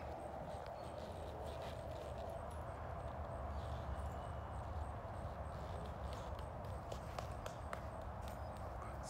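Hooves of Darlin, a young horse on her fifth day under a rider in training, thud in a soft, irregular walking rhythm, faint against a steady low background hum.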